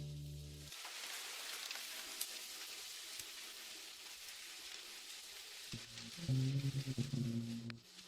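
Soft, steady hiss of rain falling continuously, fairly faint, with a low hum and some louder clattering near the end.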